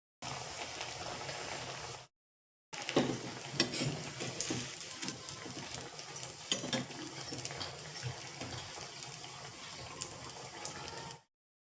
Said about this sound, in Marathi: इथं माझे ना वडे तळून झालेले